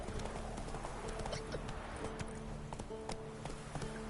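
In Witcher 3: Wild Hunt, a horse gallops with quick, rhythmic hoofbeats, close and steady, over a faint tonal game backdrop.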